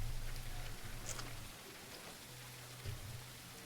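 Steady rain hisses on surfaces in the Ship Graveyard Simulator 2 game, a continuous soft wash with a low rumble under it, faint and even throughout.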